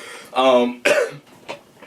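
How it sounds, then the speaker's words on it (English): A person clears their throat and then gives a harsh cough, followed by a smaller breathy cough, close up with no speech. "to figure out how to get rid of this cough"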